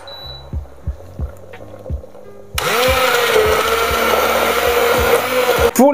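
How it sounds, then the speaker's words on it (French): A blender whirs loudly and steadily for several seconds as it purees a cream sauce with morels, starting abruptly after a few soft kitchen clicks and cutting off at the end. "Quand la sauce arrive à ébullition, on la mixe"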